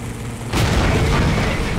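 Tank cannon shot in a video game, a Type 59 tank battle: a sudden loud boom about half a second in, followed by a sustained rumbling roar that fills the rest of the moment.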